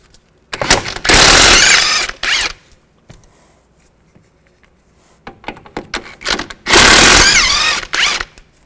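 Ratchet spinning an 18mm socket to remove strut nuts on a 2005-2010 Chevy Cobalt, two bursts of rapid, loud close-up clicking separated by a quiet pause with light tool handling.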